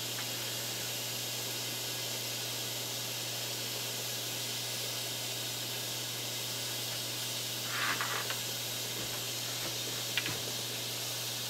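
A steady, faint hiss from a butane can during outdoor BHO extraction, running continuously with a couple of small brief bumps near the end.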